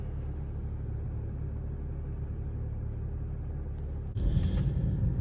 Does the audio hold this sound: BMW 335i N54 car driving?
yes